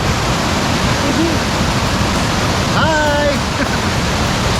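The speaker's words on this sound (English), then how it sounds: "these are cascades where they just like little miniature falls one after the other." Water rushes over a cascade of small falls in a Tennessee stream near Savage Falls, a loud steady roar of broadband noise throughout, with a brief spoken greeting and a short bird call above it.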